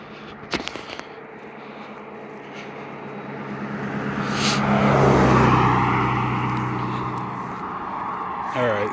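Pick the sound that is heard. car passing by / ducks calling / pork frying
car passing by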